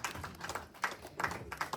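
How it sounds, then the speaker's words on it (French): Light clapping from a small family gathering at a 50th birthday party, a few hands patting in uneven bursts, quiet and fairly close, with no talk over it. "On va applaudir, s'il vous plaît."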